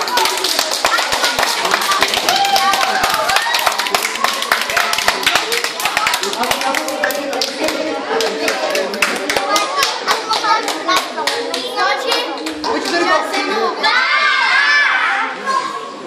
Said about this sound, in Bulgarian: ни силни бурни аплодисменти за това